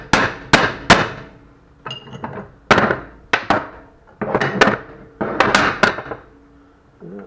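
Sharp metal hammer blows drive a tapered pin out of an old woodworker's vise, about a dozen loud close strikes in uneven bursts with short ringing decays, no talking.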